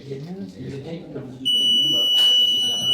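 Voices talk, then a steady high-pitched electronic beep from a distance-triggered alarm starts and holds continuously, loud and close, with a brief clatter partway through.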